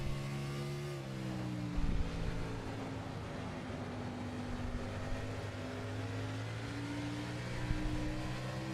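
A truck engine races in the video game NASCAR Racing 2003 at Nashville Fairgrounds, holding a steady high drone with pitch shifts as it accelerates and backs off, alone and fairly quiet.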